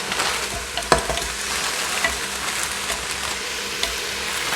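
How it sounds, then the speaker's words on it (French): Frozen red, yellow and green bell peppers hit a hot frying pan, giving a steady wash of sizzling with a few sharp clicks and stirring scrapes, moderately close and without talk. "je vais rajouter également des poivrons que j'avais pareil au congèle"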